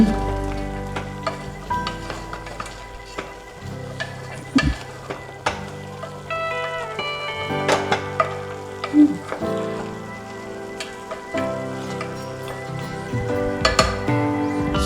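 Goat meat with turmeric sizzles in a pan over a low flame in a village kitchen, moderate frying hiss with clinks and scrapes of a spoon stirring, close by, no speech.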